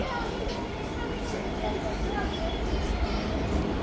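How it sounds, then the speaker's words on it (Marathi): A steady, heavy rumble of the Koyna Express train arriving at Talegaon railway station, with a busy platform murmur of voices throughout. "ट्रेन आलेली आहे"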